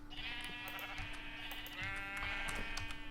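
Sheep on a farm in a video game bleat in a couple of drawn-out, wavering calls, fairly close and loud over a steady low tone, with no speech.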